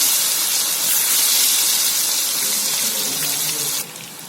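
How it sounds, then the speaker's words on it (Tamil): Cauliflower pakoda dropped straight into hot oil, a loud, steady sizzling hiss that holds for several seconds before dropping to a softer level. "இப்படி டைரெக்டாக எண்ணெயில் போட்டுட்டோம்"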